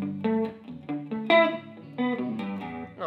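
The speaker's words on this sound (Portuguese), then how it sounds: "o coro já tá rolando, vou colocar um reverbzinho pra ver" A Tagima Sixmart electric guitar plays a short run of clean plucked notes through chorus and reverb effects, each note ringing and shimmering into a soft tail, heard alone without talk.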